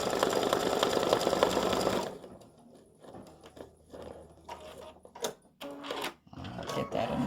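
An embroidery sewing machine runs a fast triple stitch through card stock, a loud steady mechanical whirr for the first two seconds, then quieter intermittent clicks and handling noises.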